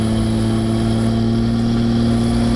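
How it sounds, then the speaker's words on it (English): A car engine holds a high idle, a loud, steady droning hum with a constant pitch, close by, and no voices over it. "When that engine is high idling like that"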